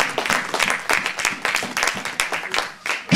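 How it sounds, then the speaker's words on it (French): A church congregation applauds the Lord during a sermon, giving bursts of uneven, pulsing clapping with some voices mixed in over about three seconds. "Applaudissez le Seigneur."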